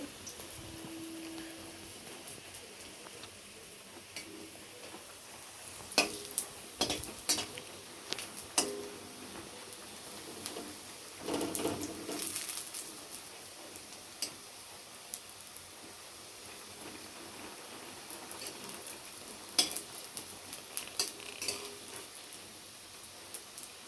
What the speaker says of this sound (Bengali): হালকা মিডিয়াম আঁচে এগুলোকে ভাজতে হয়, তাহলে খুব ভালোভাবে ভাজা হবে